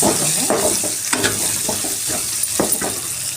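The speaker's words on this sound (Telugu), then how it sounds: "కట్ చేసినటువంటి ఉల్లిపాయలు, బాగా ఫ్రై చేసుకోవాలి." Chopped onions fry in a hot pan for an egg dish, a loud steady sizzle broken by scraping stirs every half second or so, close and with no voices.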